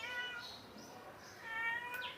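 A cat meows a few times outdoors in a wooded setting, mid-distance and moderately clear against a soft background hiss.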